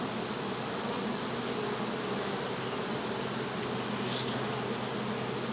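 Honey bees at a hive make a constant, close, dense buzzing hum that holds steady throughout with no pauses, heard alone.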